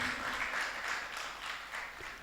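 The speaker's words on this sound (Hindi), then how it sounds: "एक बार उनके लिए भी जोरदार ताली बजाएं।" Audience applause at a Guru Purnima festival, a steady wash of many hands clapping together, sustained and fairly loud throughout with no talk over it.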